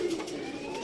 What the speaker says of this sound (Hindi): तम्बल कबूतर हैं, पहली दफ़ा निकालने लगे हैं